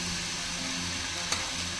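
Steady sizzling of chitruk wild leafy vegetables with onion frying on a hot griddle, a continuous close hiss with one brief scrape partway through.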